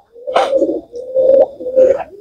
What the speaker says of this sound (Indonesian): kesulitan lah anggap gitu ya dalam menjodohkan merpatinya Mas Januar pribadi yang jantan